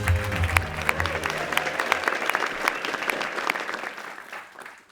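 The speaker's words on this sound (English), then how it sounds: "Let's give the team another round of applause" Audience applause fills a Webflow Conf 2024 keynote hall, dense steady clapping that rises at the start and slowly thins toward the end, with a low hum from the stage sound system early on.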